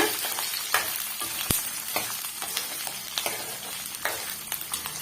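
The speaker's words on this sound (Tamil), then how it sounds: "இப்போ இந்த பூண்டு நல்லா வந்து நம்ம வதக்கி விட்டுக்கலாம்" Peeled garlic cloves fry in a pan for a spicy garlic chutney, giving a close, steady sizzle. Sharp spatula scrapes and taps against the pan break through at irregular moments.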